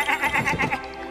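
A sheep bleats in a pirate-themed game scene: a short run of pulsing, wavering bleats, fairly loud and close, with no other sounds around it.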